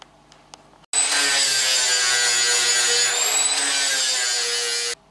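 A power grinder bites into a steel weld seam on a corner bench seat repair, a loud, high, whining grind held steadily for about four seconds after a few faint taps.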